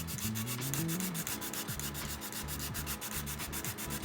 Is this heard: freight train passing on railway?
no